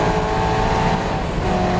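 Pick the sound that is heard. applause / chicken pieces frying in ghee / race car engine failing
race car engine failing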